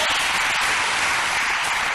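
An audience at a Myles Munroe talk on relationships bursts into applause, a dense, even wash of many hands clapping together, close and sustained for the whole moment with no voices over it.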